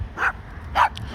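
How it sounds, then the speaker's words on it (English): Small dogs give two sharp, loud yapping barks close by, separated by a brief pause. "we always make some time to see the little dogs"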